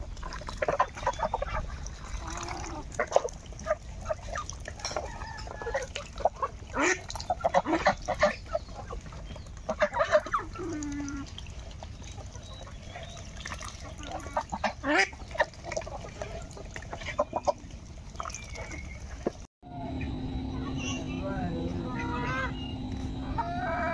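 Chickens and roosters clucking among geese in a rural backyard flock, with scattered near and far calls and squawks forming a busy, uneven chorus, cut briefly near the end before continuing more faintly.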